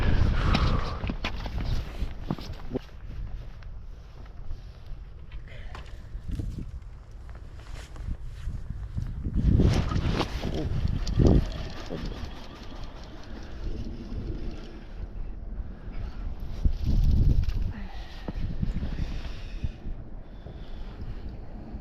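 Gusty wind buffets the microphone on a riverbank during shore fishing for trout on the Niagara River, with loud rumbling surges that rise and fall, peaking strongly around the middle and again near the end, along with scattered footstep-like crunches.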